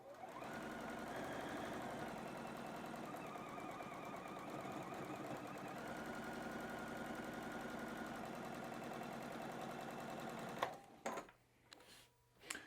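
A sewing machine stitches quilt patchwork pieces in a steady, continuous mechanical whir that runs loud and close for most of the stretch, then stops abruptly, leaving a few faint handling clicks.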